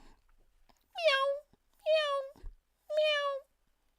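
A person imitates a cat's meow three times in steady succession, each call drawn out and rising then falling, with short pauses between them and no other voices.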